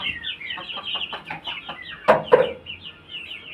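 A Punjabi-foreign cross fighting rooster lets out a quick series of close clucks that builds into two sharp, louder squawks, then settles back to softer clucking.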